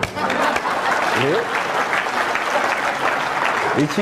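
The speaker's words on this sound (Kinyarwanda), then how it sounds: "Twagiye amashyi nacyo di." A crowd at a Rwandan comedy show applauds continuously, a dense wash of clapping with brief voices surfacing over it.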